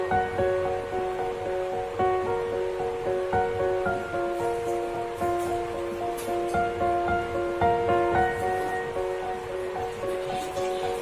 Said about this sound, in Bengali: তো এখন একদম পরিষ্কারভাবে জল উঠছে